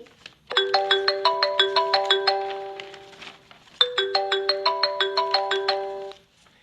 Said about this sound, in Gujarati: હું અત્યારે જ મારા દીકરાને ફોન કરું છું